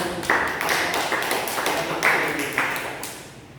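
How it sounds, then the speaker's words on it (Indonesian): A classroom of students breaks into a round of steady, brisk applause during a teaching practice session, a dense patter of many hands close by. "Tepuk tangan dulu dong"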